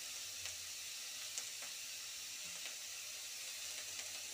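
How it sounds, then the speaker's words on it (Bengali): Onions frying in a pan for a Bengali fish curry, a steady soft sizzle and hiss with a few sharper crackles and pops, fairly quiet and close, no talking. "পেঁয়াজটা আমি লাল লাল করে ভেজে নেব।"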